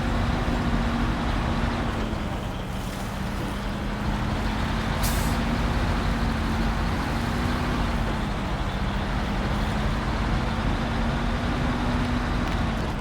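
Heavy truck grinding through swampy mud in the SnowRunner video game, with a constant loud engine rumble, a low droning tone wavering slightly, and a brief hiss partway through.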